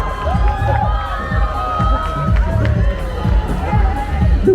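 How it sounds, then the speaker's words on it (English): A crowd cheers and shouts for the Bahrain Victorious cycling team at the Tour de France Singapore 2023 team presentation, a loud and steady roar of many voices with excited yells rising above it. "Let's give one more round of applause, please"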